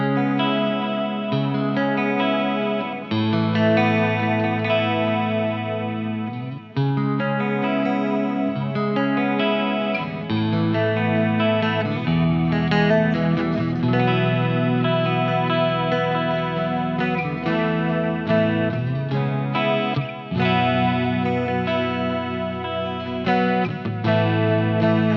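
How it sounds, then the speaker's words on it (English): Ibanez Prestige RG1570 electric guitar played clean through chorus and delay, a steady run of shimmering chords and notes with echoing repeats that lasts throughout, loud and up close. "here's what it sounds like, that same pickup configuration with a little chorus and delay"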